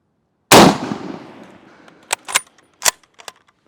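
A single loud WWII rifle shot fired at a target, a sharp crack with a long fading echo, followed by several short metallic clicks and clacks of the action being worked, no talk.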